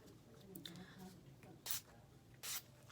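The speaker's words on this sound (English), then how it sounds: "And you just spray it in an X formation over your face." Urban Decay setting spray misted across a face in an X pattern, two short hissing bursts under a person talking.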